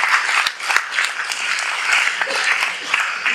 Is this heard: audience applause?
yes